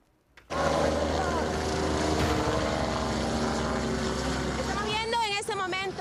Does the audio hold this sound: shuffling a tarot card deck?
no